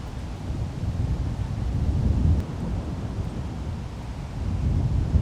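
Wind buffets the microphone on an outdoor disc golf course in a continuous low rumbling roar that swells and eases over several seconds, with no voices.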